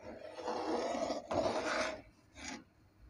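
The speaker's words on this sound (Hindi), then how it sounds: "हम इसको आहिस्ता आहिस्ता इसमें चम्मच चलाते हुए हम इसको पकाते जाएंगे।" A spoon stirs chana dal cooking in a pan, making close, gritty scraping strokes in two longer sweeps followed by a shorter one.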